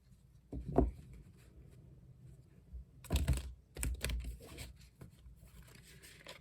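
Tarot cards riffled and shuffled in short crisp bursts, one near the start and a longer flurry of papery snaps and clicks later, close by with no talking.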